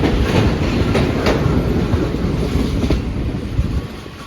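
Shalimar Express passenger train on Pakistan Railway rails near Lahore, a steady loud rumbling roar of wheels and carriages with faint clickety-clack, continuous and close throughout.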